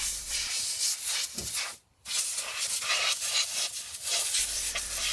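Compressed air blasts old brake dust out of the rear brake of an Opel/Vauxhall Meriva, a loud, steady close-up hiss with a brief break in the middle before resuming.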